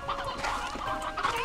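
Chickens and roosters cluck continuously in the Slime Rancher 2 video game, a busy flock of game fowl with overlapping clucks heard up close and fairly loud throughout.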